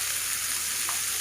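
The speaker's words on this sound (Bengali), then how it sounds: "আমি এগুলোকে সুন্দর করে নুন হলুদ দিয়ে ভেজে নেব।" Pieces frying in a pan with salt and turmeric, an unbroken hissing sizzle at steady volume, heard close and alone for a brief moment.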